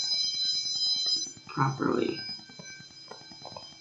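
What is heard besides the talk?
apartment building fire alarm going off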